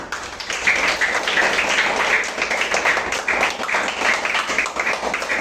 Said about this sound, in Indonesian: Oke, kita beri aplaus untuk kita semua.